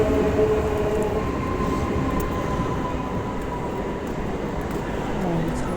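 A train passes close by with a steady, loud rumble and rolling clatter that lasts the whole stretch, with no voices over it.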